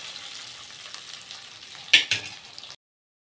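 Taro roots fry in oil over a medium flame, giving a soft, steady sizzle. Two sharper clatters of stirring come near the end before the sound cuts off.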